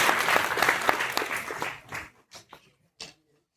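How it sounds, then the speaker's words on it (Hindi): An audience at a mushaira poetry gathering at IIT Delhi applauds, a dense burst of clapping that thins out into a few scattered claps. "बढ़िया, एक बार ताली बजा दीजिए अपने लिए।"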